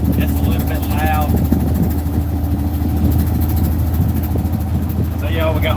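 Old truck engine idling with a loud, steady low rumble that runs throughout, outdoors, with someone talking over it briefly at the start and end.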